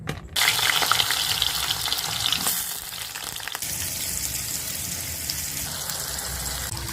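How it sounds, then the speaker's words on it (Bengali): Dal (lentils) being rinsed with water in a home kitchen for khichuri, a steady broadband rush and hiss of water that holds constant for several seconds with no voices. "ডালটা ধুয়ে নেওয়া হচ্ছে"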